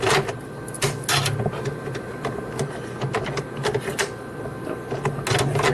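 A Xerox ColorQube 8570/8580 office printer running remanufactured solid ink prints pages in a fast batch, a continuous mechanical whir with rapid clicks and ticking paper-feed sounds throughout.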